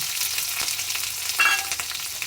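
Chopped garlic and two medium chopped onions fry in hot oil in a pan, giving a steady close sizzle throughout with a brief louder crackle midway.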